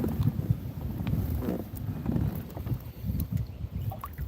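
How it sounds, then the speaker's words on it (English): Gusty wind blowing over a lake, buffeting close against the microphone in uneven rumbling surges with no speech. "the wind is picking up pretty good"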